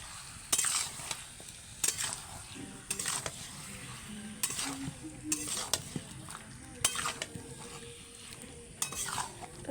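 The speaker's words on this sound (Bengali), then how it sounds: "এবার আমি মাংসটা দিয়ে দিলাম" Meat is added to a frying pot and stirred, with a low sizzle running under repeated spoon scrapes and metallic clinks against the pot at roughly one-to-two-second intervals; nobody speaks.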